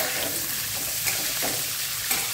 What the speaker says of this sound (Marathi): कांदे टाकून घ्यायचे तेलामध्ये.